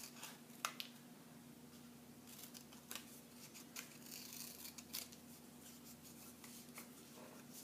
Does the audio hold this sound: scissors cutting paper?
yes